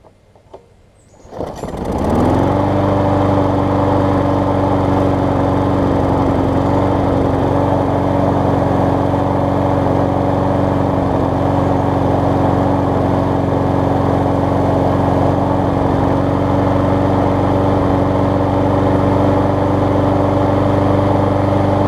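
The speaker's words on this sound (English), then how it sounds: "So that was the first pull there, and it's got a lot of oil to burn off" Troy-Bilt self-propelled lawn mower engine after a carburettor repair, fired on the first pull and then running loud and steady at a constant idle close by, with no speech.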